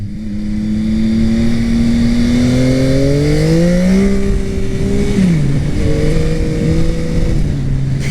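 A 2021 Yamaha MT-09 SP motorcycle on its stock exhaust revs up loudly through rising gears, the engine note climbing, dropping at a shift, then holding steady up close, with no talking.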